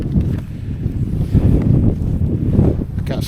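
Strong gusty wind buffeting the microphone on a snowy winter fell top in the Lake District, loud and continuous with rough low rumbling and no talking.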